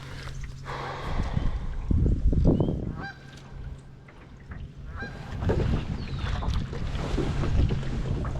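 A goose honks out on a pond in several short calls, set against steady wind and the low hum of a boat, moderately close with no talking.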